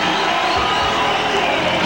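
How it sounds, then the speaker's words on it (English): Dense, steady crowd roar filling a Caesars Palace arena at a boxing match, a broad wash of cheering and shouting held at constant loudness throughout. "And the roar from the crowd."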